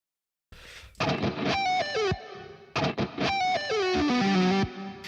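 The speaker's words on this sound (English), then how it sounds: "you can hear in quite a good way the separation of the guitar and the reverb" Distorted electric guitar phrases through a Kiesel HyperRig ring out with a washy reverb tail, two bursts of rising and falling notes with no one talking.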